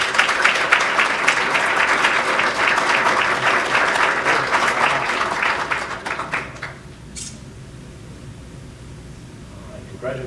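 An audience applauds at an award announcement honoring an elementary school student, with broad, sustained clapping from a crowd that stays loud for about seven seconds, then drops off to a faint room hum and scattered sound.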